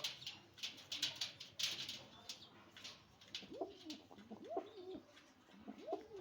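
A pair of Chinese red pigeons coo close by in a few repeated soft rising-falling calls, alongside light scratchy rustling and brief chirpy sounds at a quiet level.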